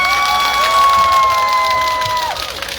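A crowd at an outdoor election campaign rally in a traditional five-day market claps and cheers loudly and without pause, with a high, steady whistle-like tone ringing over the noise.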